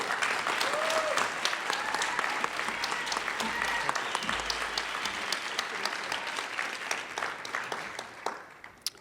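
Audience at the 37th City of Destiny Awards clapping after an inspiring speech, many hands in a steady burst that thins into scattered individual claps as it dies away, with a few voices faintly underneath.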